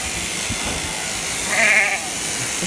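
A brief wavering bleat from a stiff, feisty feedlot lamb being held rises in the middle of a steady background of rushing noise and shuffling.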